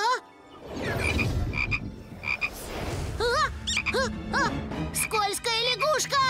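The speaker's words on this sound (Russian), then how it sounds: "Скользкая лягушка!" Cartoon frog croaks repeating in a bouncy rhythm amid lively children's animated show music and sound effects, loud and close, with character voices chattering over parts of it.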